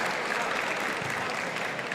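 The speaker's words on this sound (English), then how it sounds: "crowd is roaring" Basketball crowd at a 5x5 game between Perak and Negeri Sembilan roars and cheers continuously. The broad, steady wash of noise stays loud and close for the whole two seconds with no clear break.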